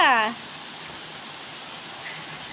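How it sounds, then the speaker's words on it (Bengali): Rain falls steadily on a hot day, an even, close hiss that carries on unbroken after a short bit of talking at the start. "এদিকে হচ্ছে বৃষ্টি শুরু হয়ে গেছে"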